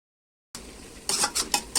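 Fried shing fish are dropped into a pan of greens, making a few soft thumps and clinks with a faint sizzle after a moment of silence, close and brief.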